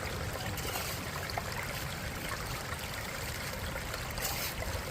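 Steady, dense rush of water flowing through a gold prospecting sluice, constant and fairly close, with a faint trickling texture and no pauses.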